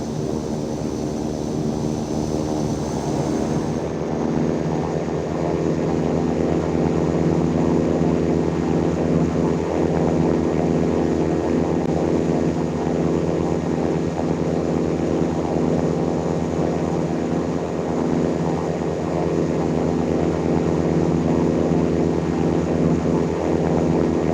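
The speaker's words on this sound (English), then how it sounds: "Blue 131 is taking off runway 26, departing straight out." A propeller aircraft taking off in the Infinite Flight game, a loud continuous engine drone with steady harmonic tones that shifts in pitch early on, then holds a strong even roar.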